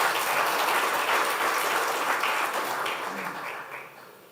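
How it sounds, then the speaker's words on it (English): Renewed audience applause at a corporate results announcement, a sustained round of clapping that holds steady and then gradually tapers off. "Clap better."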